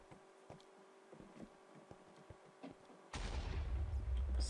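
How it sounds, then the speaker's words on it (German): A Creeper explodes in Minecraft with a sudden loud blast after a stretch of quiet clicks and soft footsteps, the burst filling the rest of the moment with a heavy rumbling roar. "Leute, hier ist gerade ein Creeper explodiert, ohne Grund."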